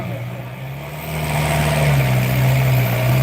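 A tractor engine idling at a village tractor-trolley pulling contest in Punjab, a steady low rumble that swells slightly louder midway, with faint voices in the background.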